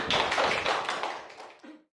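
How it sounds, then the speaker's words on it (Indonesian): An audience at a workshop gathering claps hands in a short, dense burst of applause that fades out within about two seconds, with no voices over it. "Bagus, tepuk tangan dulu."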